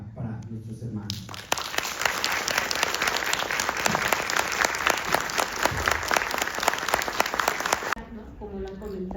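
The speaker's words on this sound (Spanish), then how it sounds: "yo les pido un aplauso para nuestros hermanos" Applause from an audience at a World AIDS Day forum at a university, loud sustained clapping that starts after a moment of voices and fades back into talk near the end.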